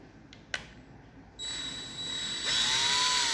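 A cordless Milwaukee M18 drill drives screws back into a replacement drill motor, giving a faint, thin motor whine that starts after a small click and rises in pitch toward the end.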